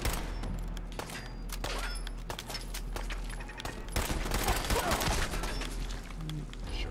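Gunfire in the video game Fallout 4, rapid bursts of automatic shots and scattered single cracks over a low rumbling background, continuous and dense throughout.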